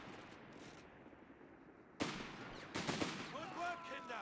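In the Company of Heroes 3 video game, an infantry squad attacks an exposed machine gun with a grenade and gunfire: a sudden sharp blast, then a rattle of shots and battle noise, mixed with shouted in-game voices.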